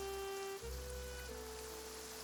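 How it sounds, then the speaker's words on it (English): Steady rain pattering on surfaces in the Genshin Impact game world, a continuous even wash of droplets with a faint low hum beneath, no voices. "It's raining."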